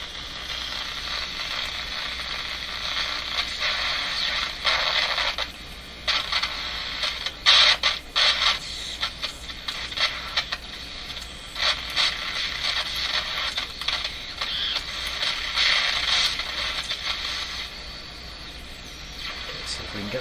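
A transistor radio is tuned across the dial, producing continuous hiss and static with crackling bursts and sweeping shifts that rise and fall for about twenty seconds.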